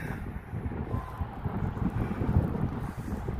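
Strong wind buffets a microphone outdoors on a historic walk at Waterloo, a continuous low roaring rumble with gusty swells and no voices.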